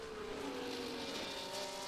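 Race cars in an Imola racing video game run through a chicane, with engines whining and shifting pitch alongside brief tire squeal, fairly faint and continuous over the short stretch.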